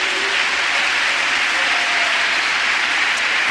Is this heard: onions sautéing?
no